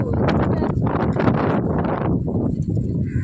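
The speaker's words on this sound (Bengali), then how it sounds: "বৃষ্টি আসবে প্রচণ্ড হাওয়া হচ্ছে" Strong wind buffets the microphone in a steady, loud roar with rustling, while indistinct voices carry underneath.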